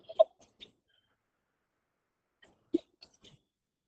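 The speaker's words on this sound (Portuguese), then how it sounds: "crise de tosse" A woman's coughing fit of a few short, sharp bursts, two at the start and a cluster near the end, separated by a long silence.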